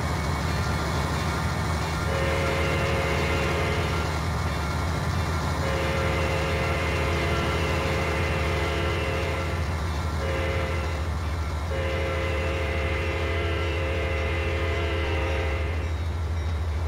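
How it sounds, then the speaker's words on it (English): An Amtrak passenger train departing a station rumbles steadily while its horn sounds in several long blasts, separated by short gaps, loud and close. "And the Amtrak train departed the station."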